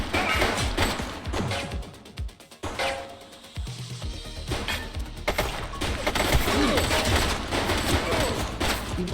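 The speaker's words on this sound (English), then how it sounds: "Shots fired!" Gunfire during a police raid on a gang in The Precinct video game, sustained bursts of shots crackling across most of the stretch with a brief lull partway, fairly loud and busy with action noise.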